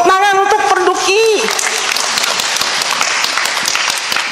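An audience bursts into steady, loud applause at an Indonesian scripture seminar, continuing throughout after a voice speaks over the opening moments.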